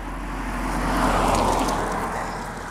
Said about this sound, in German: Jetzt kommt gerade ein Auto